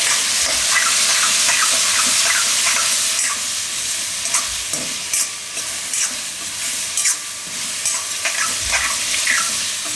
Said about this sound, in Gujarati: થોડીક વાર આને તેલમાં પાકવા દેવું વચ્ચે વચ્ચે હલાવતા રહેવું